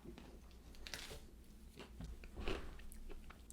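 Crunchy chewing of a Reese's Big Cup with Pretzels, a peanut butter cup packed with pretzel chunks, heard as close, irregular crunches and bites.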